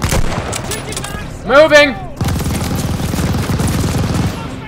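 Machine gun fire in the World War II shooter Call of Duty: Vanguard, a steady rattling stream of rapid shots, loud and close, with a brief shouted voice breaking in midway.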